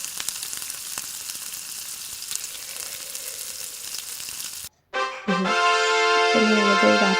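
Mixed vegetables with meat masala sizzle steadily in a hot pan as they are stirred, a close, continuous frying hiss lasting several seconds before cutting abruptly to music.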